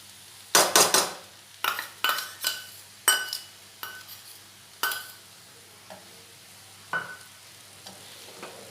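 Pulao rice with fried nuts and chopped coconut being stirred in a metal pot, a series of sharp scraping clanks, about nine strokes, loud and close, fading toward the end.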